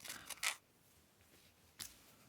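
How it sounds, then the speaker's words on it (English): Scissors snip through paper during fussy cutting of small shapes, a few quiet close clips at the start and one more near the end with hushed pauses between. "So I'm just going to fussy cut these guys out"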